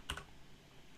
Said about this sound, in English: delete that A37 and type in extract